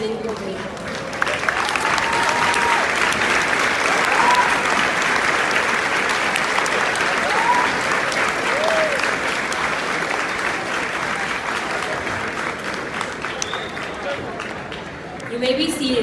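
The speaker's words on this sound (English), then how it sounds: "Let's give all of our veterans and family members a standing ovation" A crowd at a high school JROTC Veterans Day ceremony gives a long standing ovation for veterans and their families, with sustained loud applause and a few whistles and whoops rising over it.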